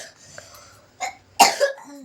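A child coughing indoors, a few short, sharp coughs close by with quiet pauses between them, the last burst the loudest.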